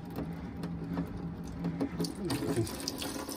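Hot water runs steadily from the tap in a 2000 Swift Lifestyle 450 two-berth caravan with an end washroom, a close, faint splashing stream that continues throughout.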